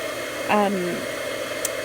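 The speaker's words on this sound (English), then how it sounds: "Let's heat this up. I'm going to use my heat gun. I like to heat from the bottom." A heat gun warms embossing powder on a black and copper card, giving a steady, close blowing whir that runs throughout, with a brief voice near the start.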